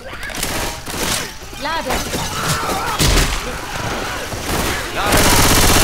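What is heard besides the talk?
gunfire in video game Left 4 Dead 2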